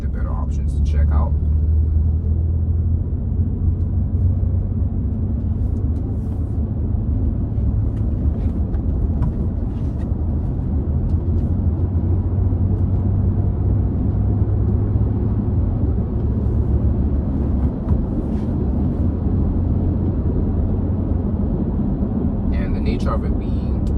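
Steady low road and tire roar inside a 2006 Honda Accord V6 with a 6-speed manual while driving, constant and fairly loud throughout, with a person talking over the cabin drone.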